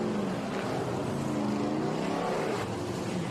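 Vintage stock cars heading onto the Sebring track, a loud continuous engine roar with shifting revs from several cars at once.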